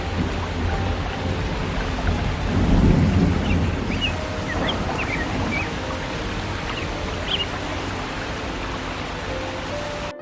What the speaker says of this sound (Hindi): कितना आंधी तूफान था, मुझे तो डर लग रहा था